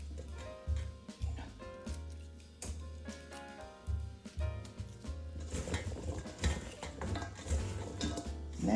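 Vegetables and onions stirred and mixed in a pot for roasted veggies, uneven scraping and clattering of a utensil against the pot, close and moderately loud, growing busier and denser toward the end without talk.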